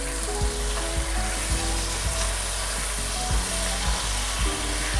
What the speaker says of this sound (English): You can kind of hear it sizzling.